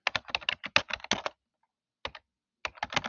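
Typing on a computer keyboard while designing in Corel Draw, two close bursts of rapid crisp key clicks separated by a short pause.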